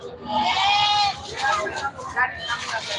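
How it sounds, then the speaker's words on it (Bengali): Black Bengal goats bleat at a busy livestock market, several close cries overlapping amid crowd babble and nearby voices. "কি সুন্দর সুন্দর ছাগল দেখেন"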